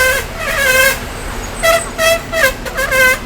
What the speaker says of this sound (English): brake makes a huge amount of noise.